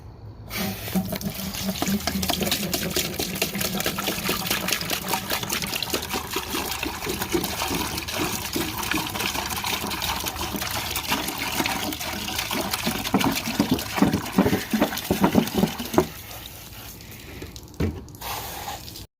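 Water pouring steadily into a clean bucket, about a gallon and a half for sumac tea, a continuous splashing trickle that runs for most of the clip before tapering off and stopping near the end.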